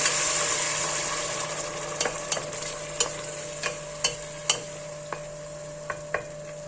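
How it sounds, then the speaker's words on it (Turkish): A spoon scrapes and taps against a pot in a steady rhythm while three grated tomatoes are stirred over a soft background sizzle, with no voices. "Şimdi 3 adet rendelenmiş domates ekliyorum. Hızlıca karıştırıyorum."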